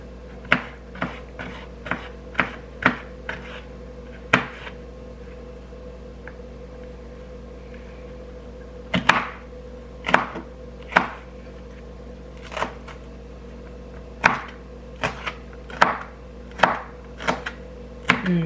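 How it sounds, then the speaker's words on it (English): Knife chopping orange, red and yellow bell peppers on a board: bursts of sharp close taps, a quick run of strokes, a pause, then more uneven clusters of chops, with no talking. "Get these cut to about the same size."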